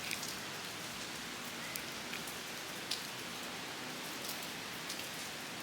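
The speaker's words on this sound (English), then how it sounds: "The sun has popped through for a bit, but the rain still hasn't stopped." Rain falling steadily in Patong, Phuket, a dense even hiss of drops on surfaces with a few sharper nearby splashes, no voices.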